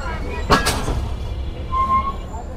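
The Banglabandha Express intercity train pulls into Madnagar railway station in Bangladesh: a low rumble with a sharp, loud burst early on, followed by a brief high whine.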